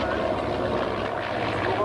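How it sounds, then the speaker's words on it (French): A British Bulldog propeller trainer aircraft flies past at an air show at a French air base, its engine droning steadily at moderate distance while a commentator talks over it. "Voilà le Bulldog, regardez notre petit avion d'entraînement britannique."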